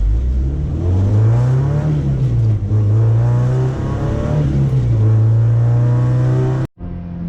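A car engine revs hard and loud, its pitch climbing, dipping and climbing again under full throttle before cutting off abruptly near the end.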